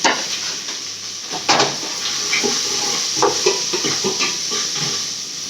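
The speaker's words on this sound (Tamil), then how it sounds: "முழு பூண்டுலாம் அது நல்லா வதங்கட்டும். வெங்காயம் வதங்கிச்சு." Onions and whole garlic cloves sauté in a pan with a steady sizzle and occasional stirring clinks and scrapes, close up and without talk.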